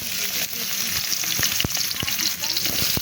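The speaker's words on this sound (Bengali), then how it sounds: "পেঁয়াজটা এখন ভালো করে ভেজে নেব।" Onions frying in hot oil in a wok, giving a steady loud sizzle with a few sharp crackles and pops throughout.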